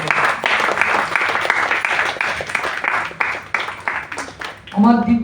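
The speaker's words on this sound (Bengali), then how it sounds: "আসুন আমরা তাকে সকলে করতালি দিয়ে আরেকবার আমাদের শ্রদ্ধা জানাই" Audience applause at a book release programme: dense, sustained clapping from a crowd filling about five seconds, easing slightly before a voice briefly speaks at the end.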